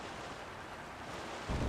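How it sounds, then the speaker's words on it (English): A fan-powered raft crosses a river in The Legend of Zelda: Tears of the Kingdom, heard as a steady broadband rush of wind and water with no talk. A deeper thump of water comes in at the very end. "It's sailing pretty fast with the wind from the fans."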